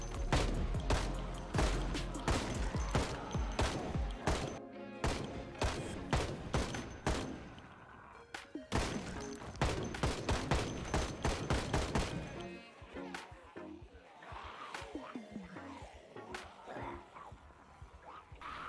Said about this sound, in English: using the AK to clear out the remaining zombies